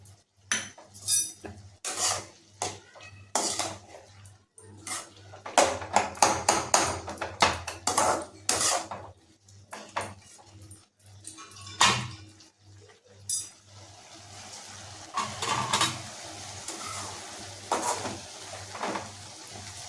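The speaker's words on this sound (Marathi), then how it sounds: "आता हे सगळं मिक्स करून घ्यायचं छानपैकी" A spoon scrapes and clanks against a pan while pumpkin bhaji is stirred and mixed with crushed peanut powder, a busy run of irregular metallic knocks and scrapes, close and clear, easing into softer stirring near the end.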